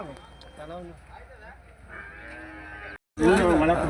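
Cattle and calves moo several times at the Wednesday cattle market in Honnali, Davangere, in a noisy outdoor setting, with a brief gap before a loud, close low call at the end.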